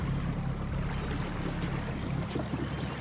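Minn Kota Endura C2 55 lb thrust trolling motor running in water, giving a steady close churning and rushing of water with a low motor hum throughout and no talking.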